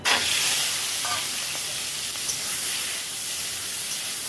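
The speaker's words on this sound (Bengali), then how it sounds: "তেল গরম হয়ে গেছে, মাছ দিয়ে দেবো।" Prawns frying in hot white oil in a home kitchen, a steady broadband sizzle and hiss that holds at an even level throughout, close and alone with no talk.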